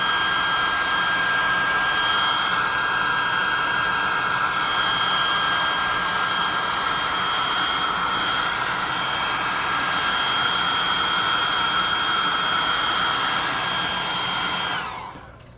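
A hot air gun running on its low setting to dry hot glue on a tabletop craft miniature, giving a steady, close, continuous blowing whir with a high tonal whine that holds unchanged and cuts off abruptly at the end.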